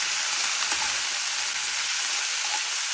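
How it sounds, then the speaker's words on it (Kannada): Spices and coriander frying in a pan for chicken sambar give a steady, close hiss of sizzling oil lasting throughout, with no voices. "ಚೆನ್ನಾಗಿ ಈಗ ಫ್ರೈ ಆಗಲಿ."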